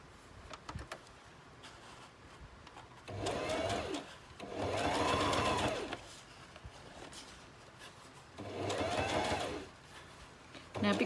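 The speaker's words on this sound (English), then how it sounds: "I'm just using a zigzag stitch and my favorite colored Razant thread." A sewing machine running a zigzag stitch with dark grey-brown thread through a fabric scrap for a handmade junk journal, heard as three separate whirring bursts of a few seconds each with quiet pauses between.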